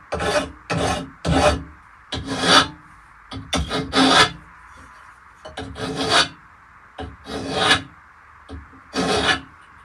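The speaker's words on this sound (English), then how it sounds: "What do I sand it with?" Rhythmic back-and-forth rasping strokes of sanding a small part for a telescope mount, close and steady, repeating in quick pairs with a faint background hum.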